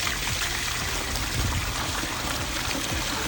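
Water gushing and pouring out of an overflowing house sewer plumbing line during a sewer scope inspection in Austin, Texas, a steady loud rush with splashing, close by and without talk.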